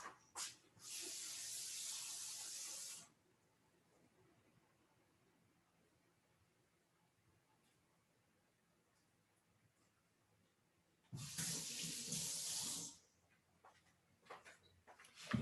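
Tap water runs hard into a bowl to rinse 1.5 cups of bulgur, two loud steady bursts of splashing hiss, about two seconds each, separated by a quiet stretch.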